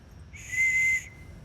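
A handmade whistle, an art piece shown at a gallery, gives one steady shrill blast of about two-thirds of a second, close and clear against a quiet room.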